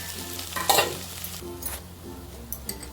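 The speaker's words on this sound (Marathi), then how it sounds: "बटाट्याच्या भाजीसाठी आता आपण क्रश केलेला बटाटा टाकून घेऊया छान परतून घेऊया" Crushed boiled potato being stirred and sautéed in a hot pan with a little garlic for katwada filling, giving soft sizzling with scraping stir strokes close by and no talking.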